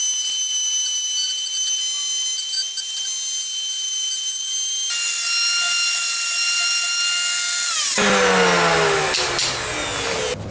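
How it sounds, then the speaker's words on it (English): Scrap plywood ring being power-sanded on the inside to clean up rough jigsaw cuts, a loud continuous high whine that shifts pitch and grows harsher near the end, close up with no talk. "sand away the rough jigsaw stuff on the inside of the ring"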